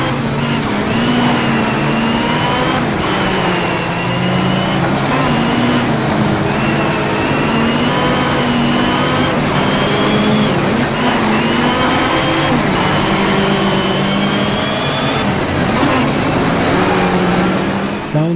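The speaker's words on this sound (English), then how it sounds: "we move along with the Lancia Delta Integrale to hear the sounds of the turbine" A turbocharged Lancia Delta Integrale in a Need for Speed racing game heard from the dashboard camera, its engine droning loudly and steadily as it climbs through repeated revs, with brief dips between gear shifts.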